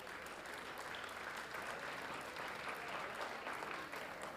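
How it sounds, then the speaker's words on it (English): Audience applause for sponsors at a public safety awards ceremony, a steady, even wash of clapping that holds at moderate level from start to finish, with no voices standing out. "How about a round of applause for the sponsors?"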